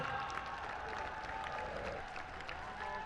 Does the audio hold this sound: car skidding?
no